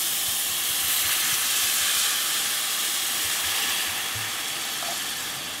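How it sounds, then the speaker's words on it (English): White wine hisses and steams loudly as it hits a hot risotto pan of butternut squash, a steady broad sizzle that fades slightly toward the end, with no talking. "So I'm going to add some wine now"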